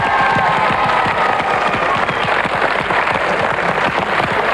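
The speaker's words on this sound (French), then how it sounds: "Applaudissements pour l'équipe bleue, s'il vous plaît." A studio audience on a French game show claps steadily for the blue team, a dense, even wall of applause with scattered cheers, loud and close throughout.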